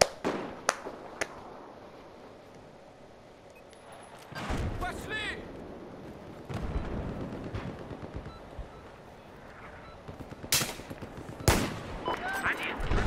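Gunfire in the video game Battlefield 4, with scattered sharp single shots and short bursts, some loud and close, over a steady bed of game ambience, while a player talks now and then.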